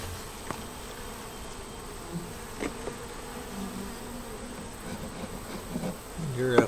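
Honey bees hum in a low, steady drone close by, with a few brief soft knocks and a slight rise in activity near the end.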